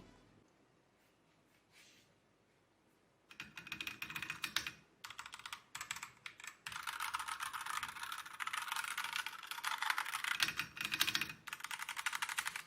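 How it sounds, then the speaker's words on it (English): Soft, muffled keystrokes on a membrane keyboard patter in quick bursts of typing, close and fairly quiet, after a brief near-silent opening. "the keys actually press, but the sound is kind of muffled by the membrane"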